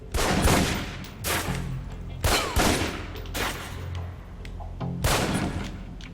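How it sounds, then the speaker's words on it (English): Pistol shots fired at a range target in the Alpha Protocol video game: several loud, sharp single cracks spaced about a second apart, each with a short echoing tail, close and clear with no voices. "Equip the pistol, then aim down range and take some shots at the target."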